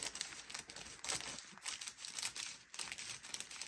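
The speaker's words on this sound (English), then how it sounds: "You love the sound of crinkling plastic, I know." Close, continuous crinkling of plastic packaging, crackly bursts coming in irregular waves for several seconds with no talking.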